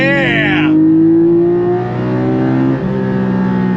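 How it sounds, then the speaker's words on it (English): A Porsche 718 Cayman GT4 mid-engine sports car pulls on throttle in second gear, its loud engine note rising steadily from the cabin with a brief pitch drop like a shift partway through. "The sound of that engine."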